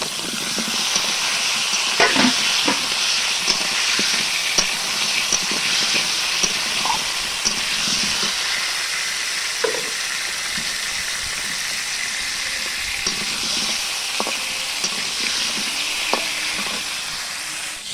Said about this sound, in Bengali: আলু ভাজা বসিয়ে দিয়েছি ওখানে